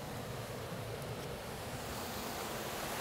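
Rushing water from the Chew Stoke waterfall, a steady, loud broadband roar with no pauses, heard alone and close by.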